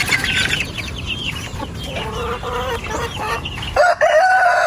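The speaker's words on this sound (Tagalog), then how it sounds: "Ito yung mga Huluano chickens." A flock of Huluano chickens about one month old clucks and chirps in a busy, overlapping chorus close by, ending with a louder nearby call.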